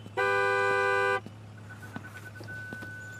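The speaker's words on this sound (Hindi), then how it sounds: "उधर केशव हॉर्न बजा।" A single sustained car horn blast, about a second long, sounds close and loud, then gives way to quiet street ambience with faint distant tones.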